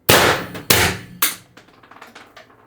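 An X-68 CO2 air pistol with a CAR expansion stock and 24 g CO2 fires three sharp, loud reports in quick succession, followed by softer trailing clicks and rattles.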